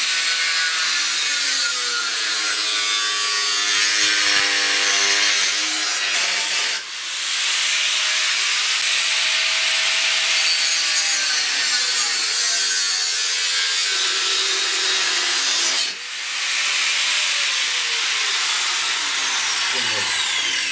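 An angle grinder cuts through the steel frame of a Suzuki GSX 750 motorcycle with a loud, continuous high-pitched whine, its pitch shifting as the load varies and dipping briefly twice.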